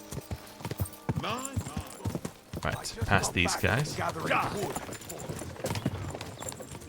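Horse hooves clip-clop in a steady riding rhythm in the video game Kingdom Come: Deliverance II, close and clear, with someone talking over the hoofbeats.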